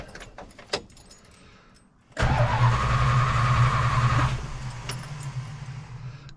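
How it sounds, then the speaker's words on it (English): A Plymouth Belvedere's engine cranks and catches after some faint clicks and a clunk, then settles into a loud, steady idle up close that eases back slightly after a couple of seconds. "let's fire it up, see how it runs"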